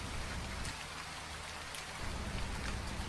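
Steady, dense rain falls in a storm, a continuous hiss of many drops spread evenly with no pauses and no voices.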